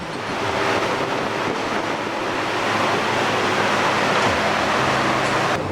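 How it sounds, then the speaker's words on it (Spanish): A hurricane simulator at WonderWorks in Orlando blasts category 1 winds of 74 mph, a loud, continuous roaring rush of air that buffets the microphone throughout, with no voices. "Aquí sentirás la fuerza y velocidad que pueden tomar los vientos al formarse un huracán."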